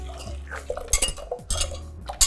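Spoon stirring vanilla cream in a triple-bottom pan on the stove, irregular metallic scrapes and clinks against the pan with low thuds, close and clear with no talking.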